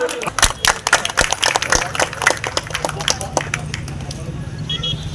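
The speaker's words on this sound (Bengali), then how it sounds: "জোরে একটু তালি" A crowd claps for Partha Bhowmik, a Trinamool Congress parliamentary candidate, at an outdoor campaign gathering: dense bursts of applause in the first half, thinning into scattered claps over a steady hum, with people talking throughout.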